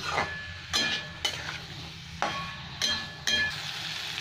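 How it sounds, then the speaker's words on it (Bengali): Shrimp and potatoes sautéing together in a pan, a constant sizzle broken by several sharp stirring scrapes and knocks of a utensil against the pan at irregular intervals, close and fairly loud with no voices. "এখানে আমি আলুগুলো তুলে দিলাম, দিয়ে একসাথেই ভেজে নিচ্ছি।"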